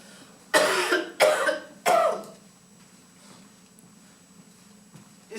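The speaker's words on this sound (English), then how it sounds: "It's just a little cough." Three sharp coughs in quick succession, close and loud, followed by quiet.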